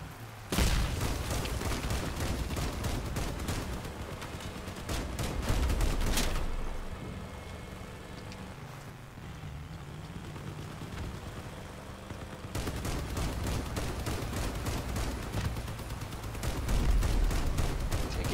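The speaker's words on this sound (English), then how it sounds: "Them cannons scare the hell out of me." Rapid bursts of gunfire and heavy cannon booms in the video game Crossout fill the scene, with dense volleys broken by a quieter stretch before the barrage resumes.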